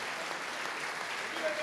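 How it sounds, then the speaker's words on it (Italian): Audience at a bersaglieri brass band concert in Castelfranco Veneto applauding a musician named Carlo, a steady wash of clapping across the whole short stretch, moderately quiet and fairly distant. "Facciamo l'applauso a Carlo"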